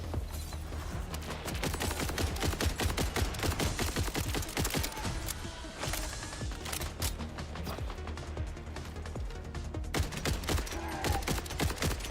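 Dense, continuous rapid gunfire in Borderlands 4, sharp shots cracking in fast bursts throughout with a steady loud background of game action and no talk.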